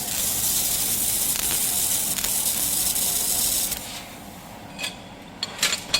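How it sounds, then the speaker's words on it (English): A 3000 watt laser welder tries to cut an 8 mm iron plate, giving a loud, steady spraying hiss for nearly four seconds that then cuts out, followed by a few short sputtering bursts. "Try to cut this 8 millimeter iron plate."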